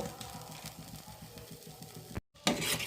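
Rhythmic scraping of a spoon through chana masala spices sizzling in a pan, close up, with a brief silence and then louder sizzling.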